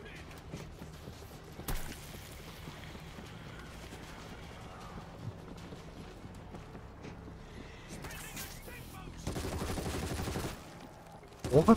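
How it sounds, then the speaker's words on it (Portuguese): Gunfire in the World War Z video game, mostly faint with a single distant crack early, then a sustained burst of rapid automatic shots and a few loud close reports at the end, with quiet talk in the background. "Opa, tô atirando lá."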